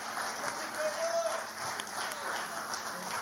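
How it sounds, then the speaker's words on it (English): Audience at a television personality of the year awards ceremony applauds as an honoree leaves the stage, a soft steady wash of clapping heard at a distance with crowd murmur and voices beneath. "Another round of applause for him as he exits the stage, ladies and gentlemen."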